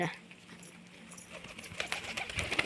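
Pigeons with young chicks learning to fly make soft cooing and fluttering sounds at close range, growing busier toward the end.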